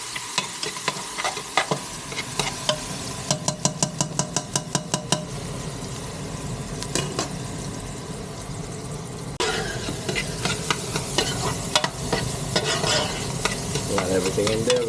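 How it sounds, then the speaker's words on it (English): Garlic, onions and carrots stir fry in a pan, a close sizzle broken by rapid rhythmic scraping and tapping of a utensil against the pan, loud and continuous with no speech. "We got the garlic, onions, and the carrots. Yep. Let that stir fry for a little bit."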